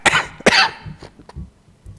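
A few sharp, close coughs in quick succession, with a couple of softer throaty bursts trailing after, then quiet.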